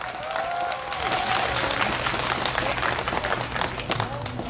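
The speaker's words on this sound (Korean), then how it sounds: "힘찬 박수 부탁드립니다" Loud, vigorous crowd applause at an outdoor call-center workers' general strike rally, dense continuous clapping with a voice over a loudspeaker briefly audible at the start.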